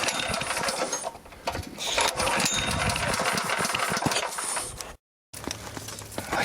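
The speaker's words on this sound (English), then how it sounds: "Got my rudder gun out, my air compressor, so the rudder gun makes it a lot easier." An air compressor feeding a rattle gun during diff removal on a VN Commodore runs with a loud, dense mechanical drone and clatter, broken by one brief silence near the end.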